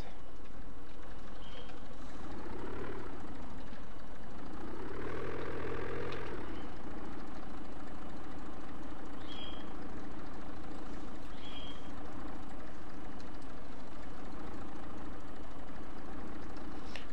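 A tractor engine in Farming Simulator 2017 runs with a steady low idle, rising twice into brief revving swells, with a few faint high beeps over the constant drone.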